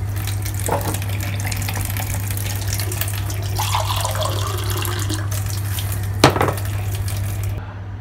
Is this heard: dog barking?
no